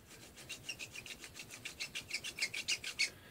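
Rough skateboard bearings spin with a rapid, rhythmic raspy grinding that repeats in quick pulses, growing slightly louder toward the end, with no voices.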